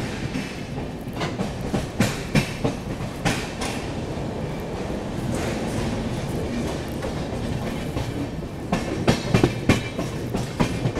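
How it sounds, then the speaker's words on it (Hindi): A Rajdhani Express passenger train rolling past at speed while being overtaken before Gwalior, with steady rumbling wheels, repeated clickety-clack of coach joints and a continuous loud rushing roar throughout. "ये देख लो ये है राजधानी, इसलिए कहते हैं इसे CR की बेस्ट ट्रेन।"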